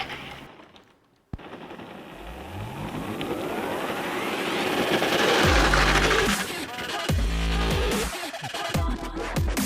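An RC-controlled Power Wheels ride-on toy's electric motor, powered by a car alternator through an H-bridge, runs at quarter throttle. After a sharp click comes a whine that climbs in pitch, then choppy rattling pulses, close and fairly loud.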